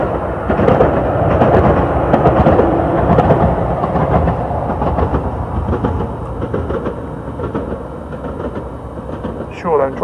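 A train rumbles past nearby at Haddiscoe Bridge on the Norfolk Broads, a loud sustained roar with rhythmic clatter of wheels, fading slightly toward the end.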